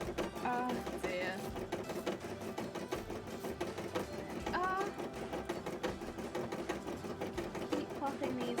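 A beading and embroidery machine stitching cosplay work runs in a steady, rapid mechanical rhythm throughout, close and fairly loud, with speech and brief higher tones drifting over it.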